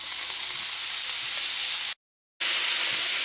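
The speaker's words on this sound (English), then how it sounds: "When the oil is hot, add in the conch." Conch meat sizzles steadily in hot oil in a frying pan, a loud, continuous close-up hiss with a brief dropout partway through.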